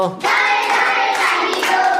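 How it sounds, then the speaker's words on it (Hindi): Rhythmic hand clapping in a children's clapping song, a steady run of claps that fills most of the moment, loud and close, with no talk over it. "दाएं दाएं ताली दो"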